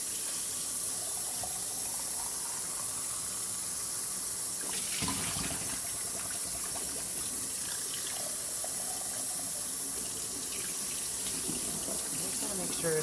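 A kitchen tap runs continuously while a whole raw chicken is rinsed under it, a loud, close, steady gush with a brief splashing clatter of handling midway.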